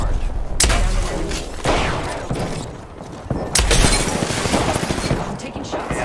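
Bursts of gunfire in the Apex Legends battle royale game, several loud sharp volleys spaced a second or two apart with rattling automatic fire between, close and dense throughout.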